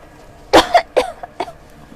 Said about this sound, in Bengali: এগুলা শুনলে আমার কাশি আসে